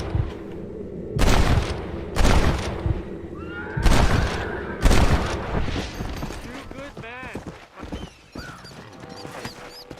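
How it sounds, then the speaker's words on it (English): Repeated gunshots ring out in Red Dead Redemption, four loud sharp bursts in the first five seconds followed by scattered fainter shots, under a bed of ambient game noise with music and voice-like tones. "I hear shooting."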